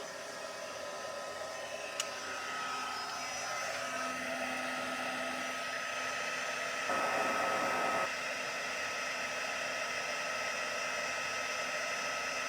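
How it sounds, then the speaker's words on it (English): An embossing heat tool blasts on its high setting while melting embossing powder for a faux stained glass craft project, giving a steady, loud airflow roar that runs continuously throughout with a brief brighter surge partway through. "I'm gonna turn my heat tool on high."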